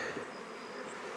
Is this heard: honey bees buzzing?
yes